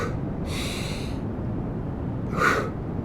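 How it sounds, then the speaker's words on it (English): Breathing during a conscious breathing exercise: one sharp, hissing inhale and then a second forceful breath a couple of seconds later, close to the microphone over a steady low background noise. "you do one whole big breath, and then I do 3 recovery breaths"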